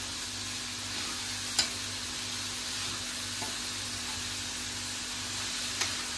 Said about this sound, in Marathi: सतत मिक्स करत राहायचं आहे